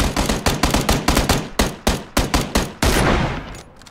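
Rapid gunfire in the video game PUBG: a close, loud series of about a dozen sharp shots in quick, slightly uneven bursts, ending with a longer fading crack, with no voices.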